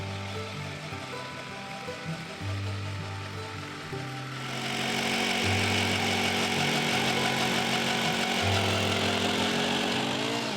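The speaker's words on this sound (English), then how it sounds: "a good reliable powered ice auger is essential equipment" Powered ice auger drilling holes in lake ice on Lac qui Parle Lake, a small engine idling then revving up to a loud steady drone that stays close and continuous.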